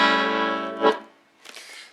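An A seventh bass chord is played on the accordion, a loud sustained reedy chord held for nearly a second and then cut off, followed by faint clicking and handling noise.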